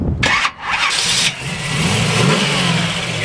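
A 1969 Chevrolet Camaro big block V8 cranks briefly and fires up, catching with a loud snarl and settling into a rough, rumbling idle close by, with no talk.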